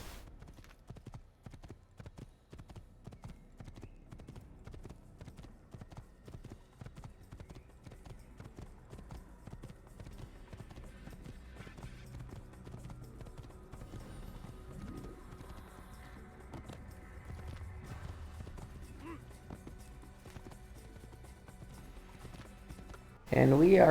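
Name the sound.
horse hooves galloping in video game Assassin's Creed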